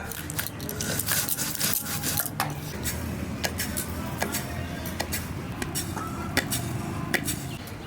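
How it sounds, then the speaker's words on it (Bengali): Roasted cumin, coriander, bay leaf and a dried chili are ground by hand in a village kitchen, giving a steady, close rasping scrape that repeats rhythmically throughout with faint wooden knocks. "এই যে জিরে ধনে তেজপাতা আর একটা শুকনো লঙ্কা ভেজে রাখছিলাম, এটা বেটে নিচ্ছি"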